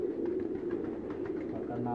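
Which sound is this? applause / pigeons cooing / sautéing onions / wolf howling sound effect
pigeons cooing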